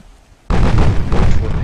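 Secondary guns of a warship firing at a transport in the naval game Ultimate Admiral: Dreadnoughts, a loud sudden booming salvo after brief quiet, rumbling on with overlapping blasts.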